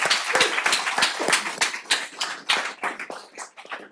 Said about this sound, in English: Let's give them a round of applause before we keep going.